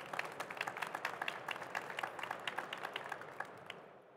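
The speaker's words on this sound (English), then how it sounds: "Please welcome them with a nice applause" Audience applause at a hydrogen and fuel cell industry seminar, a few seconds of moderate, fairly sparse clapping from a small crowd in a hall, fading out at the end.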